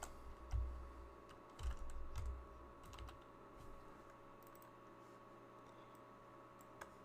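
Quiet keyboard typing during an Excel session, a few soft clustered keystrokes early on, then sparse faint clicks against low room hum.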